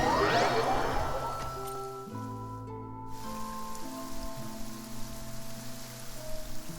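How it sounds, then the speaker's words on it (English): Steady rain in the Genshin Impact game world, a constant wash of falling drops under low sustained game music, moderately loud throughout with no one speaking. "It's been raining non-stop for a few days now."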